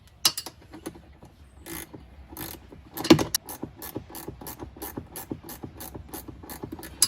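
Ratchet wrench tightening a nut onto a bolt during an off-road vehicle switch panel install, a close series of crisp clicking bursts at an uneven rhythm with short pauses between strokes.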